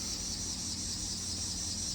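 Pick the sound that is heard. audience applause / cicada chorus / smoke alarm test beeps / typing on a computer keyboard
cicada chorus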